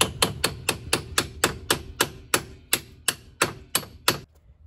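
A hammer taps a ball joint on a Ford Transit in about twelve sharp, evenly spaced metallic strikes, each ringing briefly, close and loud, before stopping.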